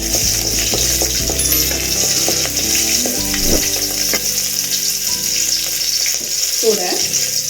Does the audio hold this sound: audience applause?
no